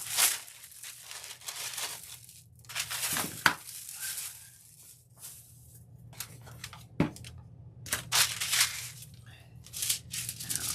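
Folded parchment paper crinkling and rustling as it is pushed and stuffed into a satin box, in close, uneven bursts of crackle with short pauses between.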